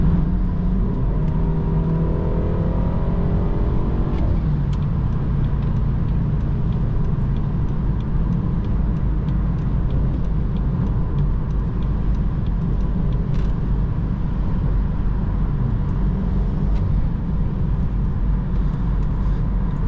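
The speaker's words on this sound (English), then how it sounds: "Not sure how well you guys can hear the intake or the exhaust in the back" BMW F30 four-cylinder with a stage 1 tune, intake and exhaust humming as a steady, loud low-pitched drone from inside the moving car, with a brief rise in engine pitch early on and no talking.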